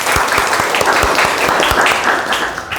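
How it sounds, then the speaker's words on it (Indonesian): Students in an Arabic language class clap together, loud and close, with a few sharp individual claps standing out from the steady group applause before it eases off at the end. "tepuk tangan untuk kita semua."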